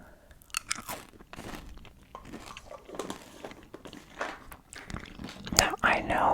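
Spearmint xylitol gum chewed right at the microphone, with wet, crunchy bites and squelches in an uneven rhythm, mixed with soft whispering.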